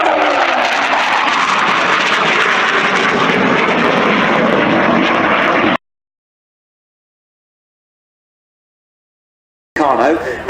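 A Hawker Hunter jet roars through a display manoeuvre at the Waddington Airshow 2014, a loud sustained broadband blast that cuts to silence for several seconds and then returns abruptly.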